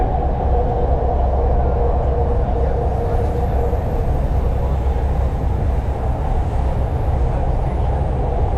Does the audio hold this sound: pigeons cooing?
no